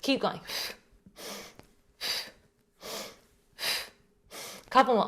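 Loud rhythmic breathing during a partner yoga exercise, about six strong exhale bursts in a steady cycle close to the mic, with brief spoken encouragement at the start and end.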